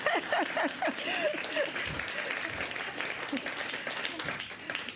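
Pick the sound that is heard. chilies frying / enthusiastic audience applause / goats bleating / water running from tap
enthusiastic audience applause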